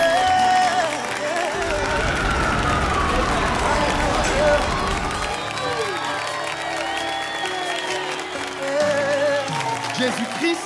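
A church congregation at a worship service in Daloa acclaims Jesus with loud, sustained crowd cheering, clapping and whoops, a dense roar of many voices that fills the space throughout, swelling and fading in waves.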